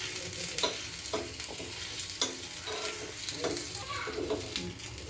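Neem flowers sauté in hot ghee with a steady sizzle, broken by repeated scraping stir strokes in the pan; a faint voice murmurs briefly in the background.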